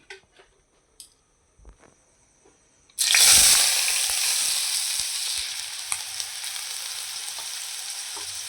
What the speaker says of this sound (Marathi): 2 पळीभर मी तेल टाकून घेतलेलं आहे.